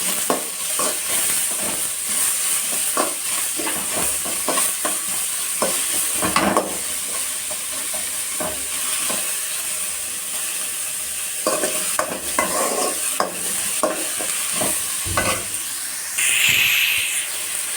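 Finely chopped onion frying in a pan while being stirred, a continuous close sizzle and hiss broken by frequent spatula scrapes and knocks against the pan.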